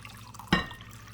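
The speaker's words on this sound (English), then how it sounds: "So now what we're going to do is fill this up with water." Water splashes abruptly into a bowl of pomegranate seeds, one brief close pour that fades quickly into quiet room noise.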